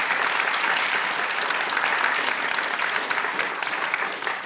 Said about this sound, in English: please give them a round of applause, for this discussion.